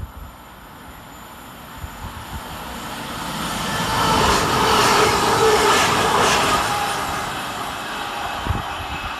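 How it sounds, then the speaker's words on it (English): A Class 331 Northern electric multiple unit passes through a suburban station, swelling from a low hum to a loud, steady rushing roar mid-clip and then easing back, with no voices. "Next to pass through the station is 331017, working 1 November 52 for Northern from Manchester Airport to Blackpool"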